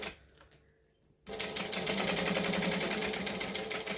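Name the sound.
sewing machine top stitching a fabric pouch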